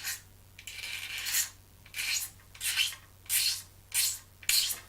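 Sanding sponge with medium grit rubbed over a plastic 1/48 Academy F-4B Phantom model kit part, five or six rhythmic raspy strokes with short pauses between, close and fairly quiet.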